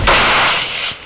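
A single loud, sharp Desert Eagle gunshot from the video game Free Fire, with a sudden crack and a rumbling tail that fades over about a second.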